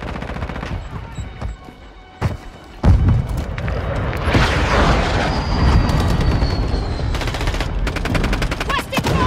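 M16 rifle fire from Call of Duty Modern Warfare 2 multiplayer, with sharp repeated shots and bursts amid a dense, loud battlefield mix of booms and rumble that continues throughout.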